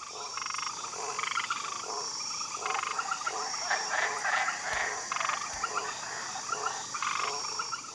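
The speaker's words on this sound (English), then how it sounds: "they are incredibly poisonous, which explains their name, poison arrow frogs" Poison arrow frogs calling in a tropical forest, with rhythmic bursts of buzzy croaking trills repeating every second or so over a constant high insect hum.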